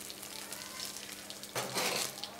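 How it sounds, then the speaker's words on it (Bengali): Dried red chillies and cumin seeds sizzle and crackle in hot oil in a pan for a Bengali pineapple chutney, a soft frying hiss that bursts louder midway. "একটুখানি খালি ফোড়নটা ফুটিয়ে নেওয়ার জন্য। 2-3টে শুকনো লঙ্কা আর"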